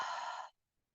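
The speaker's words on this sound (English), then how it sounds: "I want you to exhale out of your mouth so you can hear yourself breathing" A single long breath pushed out through the mouth during a chair yoga session, a soft airy whoosh lasting about half a second before fading into silence.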